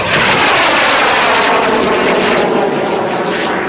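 BAC Jet Provost T5 jet trainer at an airshow, a loud continuous jet roar and whine sweeping steadily across the sky, dominating the sound with no break.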